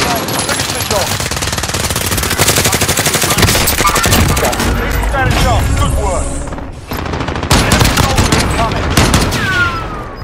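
Heavy, sustained automatic gunfire rattles nearly nonstop in a Warzone battle, with overlapping volleys and a brief lull partway through. In-game voice callouts are heard under the shooting.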